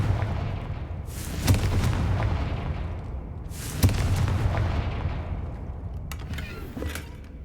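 Confringo blasting spells explode in Hogwarts Legacy, two loud booming blasts a few seconds apart, each a sharp crack followed by a rumbling low roar, then a fainter crackling burst near the end.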